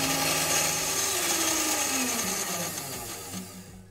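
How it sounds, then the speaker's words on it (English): A small mixing machine whirs as it blends resin and hardener in a cup for composite wing laminating, a steady motor drone with rising and falling pitch, fading slightly toward the end, no talk. "Now we go over to the mixing machine."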